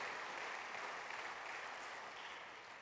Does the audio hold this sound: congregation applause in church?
yes